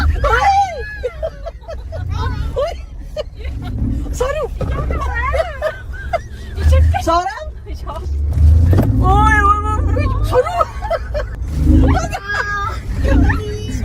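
A new Mercedes G-Wagon accelerates hard with a deep engine roar beneath excited voices of passengers talking and exclaiming throughout.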